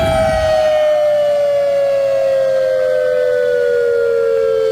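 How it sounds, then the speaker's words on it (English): Hawaii's Cold War era nuclear warning civil defense siren wails as one loud sustained tone that slowly falls in pitch, steady and alone. "Check out those sirens. That's Hawaii's nuclear warning system."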